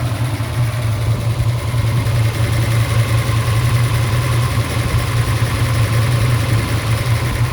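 A 1970 Ford Mustang Boss 302 V8 idles steadily nearby, an even, throbbing low-pitched burble that holds unchanged from start to finish with no talking.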